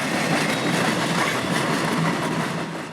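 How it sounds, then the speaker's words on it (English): A freight train of tie gondolas rolls past on the rails, a steady rumble with faint rhythmic clicking of wheels, fading slightly at the end as it moves away. "noticing a distant train of tie gondolas moving away from us"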